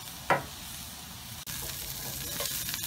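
Shad fish frying in a pan gives a steady close sizzle with a sharp scrape or stir near the start and another clatter midway, the crackle continuing throughout.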